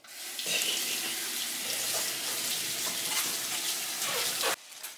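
Leafy greens are rinsed under a running kitchen tap, a steady, close rush of water for about four and a half seconds before the flow is cut off.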